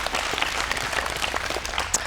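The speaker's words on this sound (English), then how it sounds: "so round of applause for that" Brief burst of audience applause at a youth volleyball goal-setting session, steady clapping from a room of listeners lasting about two seconds.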